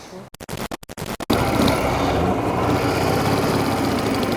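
Dnepr motorcycle engine, a Soviet-era machine, pulling away after a few choppy bursts, then settling into a loud, steady running roar close by.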